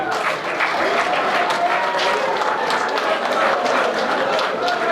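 An audience claps steadily for pastors at a community thanksgiving gathering attended by a deputy mayor, dense applause filling the room with voices mixed in.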